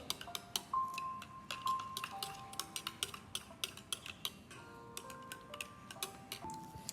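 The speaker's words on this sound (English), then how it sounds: "Yeah, it smells a little bad, but let's keep stirring." Stirring homemade bubble solution in a container, a series of light clinking taps of the utensil against the sides, irregular but steady, close and fairly quiet.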